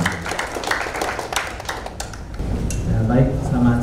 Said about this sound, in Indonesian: Kita kasih tepuk tangan buat Marinus dan Delvin yang sudah bergabung.